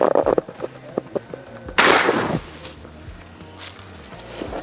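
Air rifle shot from a Galaxy LDT fired through a chronograph during an FPS test, heard as one sharp loud crack with a short noisy burst and quick decay, following some light handling clicks.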